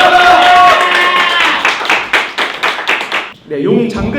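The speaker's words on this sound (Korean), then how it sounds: "박수 부탁드릴게요." An audience claps at a Korean amateur fighting event, with dense rhythmic clapping that thins into scattered claps before a voice speaks near the end.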